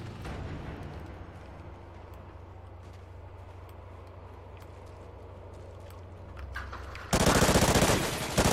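Gunfire in Call of Duty Ghosts, a steady run of shots early on under game ambience, then a loud, dense burst of automatic fire near the end.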